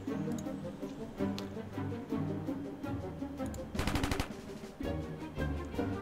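Bursts of gunfire in the tactical video game Antisquad: several single shots spaced out, then a dense rapid volley near the middle, loud and close over a steady game soundscape with no talk.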